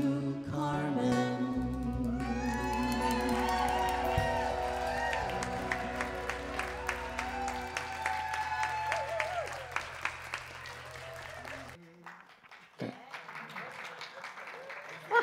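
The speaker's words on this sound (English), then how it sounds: "Everyone's applauding for the announcements being concluded." A church congregation at a Sunday service applauds after the announcements, with steady clapping mixed with sustained music that stops abruptly near the end.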